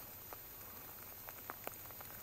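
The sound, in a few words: rain falling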